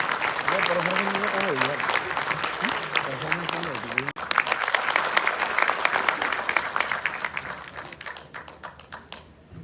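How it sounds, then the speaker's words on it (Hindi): Sustained audience applause at a CSS Day 2023 event welcoming a Member of Parliament, dense clapping filling the hall throughout, with a voice briefly audible early on before the clapping thins toward the end. "एक बार जोरदार तालियों के साथ स्वागत कीजिए माननीय सांसद महोदय श्री मनोज तिवारी जी का।"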